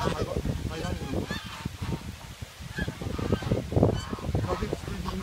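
A flock of geese returning to the farm honks loudly and nearly without pause, many overlapping calls piling up close by.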